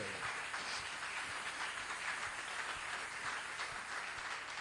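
Church congregation applauding during a Sunday service, a dense, steady wash of clapping heard from a distance at low volume.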